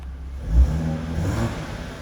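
A 2013 Ford Mustang V6 convertible engine idles with a low rumble, then revs briefly, rising and settling, heard close by with no talking.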